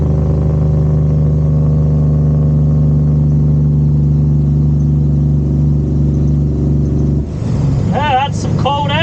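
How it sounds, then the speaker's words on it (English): A flatbed semi truck's Jake brake engine braking makes a steady, loud, low drone that holds for several seconds on a wet, muddy road, then someone speaks over the engine at the end. "Get to hear them Jake brakes a little."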